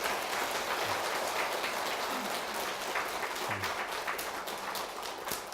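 An audience at a Buddhist dharma gathering claps steadily, a soft, even patter of many hands that stays fairly distant and continues the whole time.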